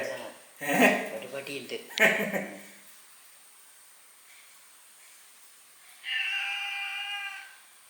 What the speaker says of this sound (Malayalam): നമ്മളെ പൂച്ചകൾ ഇതാ പതിവ് പോലെ തന്നെ ഉണ്ട്